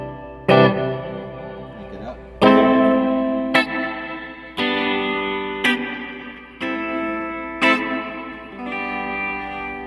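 Electric guitar chords strummed one at a time through an amp, each ringing out with reverb and a washy tail, about seven hits.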